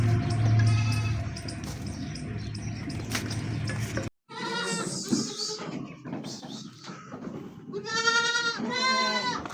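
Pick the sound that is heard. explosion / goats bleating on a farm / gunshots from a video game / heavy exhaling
goats bleating on a farm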